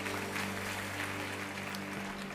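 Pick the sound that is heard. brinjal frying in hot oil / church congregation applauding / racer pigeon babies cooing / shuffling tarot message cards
church congregation applauding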